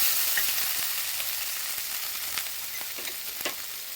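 Curry leaves sizzle and crackle steadily in hot oil, a dense frying hiss with scattered sharp pops, close and moderately loud, no voices.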